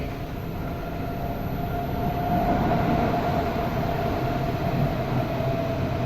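A Helsinki metro train rumbles steadily, with a low, continuous roar and a faint tonal whine rising slightly as it rolls into Myllypuro station.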